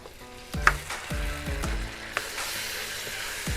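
Chopped tomatoes hit hot oil already holding garlic and onions for a Filipino sarciado fish dish: a few soft thumps as they land, then a steady close sizzle with occasional stirring clatter.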